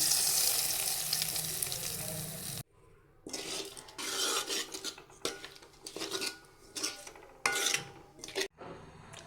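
Tomato pickle with asafoetida stirred in a pan, a spoon scraping and clinking against the metal in uneven bursts over a faint sizzle, after a steady frying hiss at the start.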